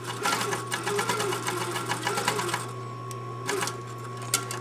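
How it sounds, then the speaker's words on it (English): A sewing machine running a long basting stitch along the curve of a sleeve, a steady fast mechanical whir with rhythmic needle clatter, close and continuous before easing off near the end. "we want a long basting stitch just over the curve of the sleeve"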